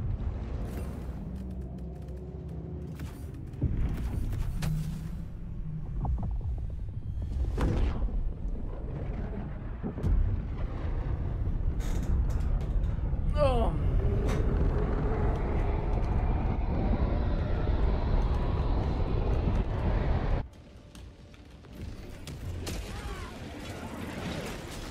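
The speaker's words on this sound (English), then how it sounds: "Engaging orbital thrusters." Spaceship orbital thrusters engage in a video game, a deep, loud roaring rumble with heavy mechanical booms and whooshes that swells and holds steady for about twenty seconds before dropping off sharply.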